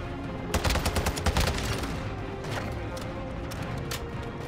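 A TAQ-V battle rifle in Modern Warfare II fires in quick bursts, sharp repeated shots clustered early and then sparser cracks, loud and close with a voice partly audible underneath.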